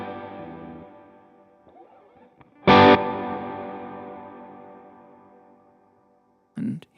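A distorted electric guitar chord rings out and decays, then a strummed chord blooms with a washy plate reverb tail switched in by a foot switch on a worship guitar preset, followed by a brief quiet strum at the end.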